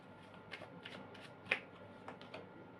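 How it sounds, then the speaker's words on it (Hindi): Tarot cards being shuffled and drawn from a deck, with soft papery flicks and a few crisp snaps, close and quiet. "एक कार्ड और लेती हूँ"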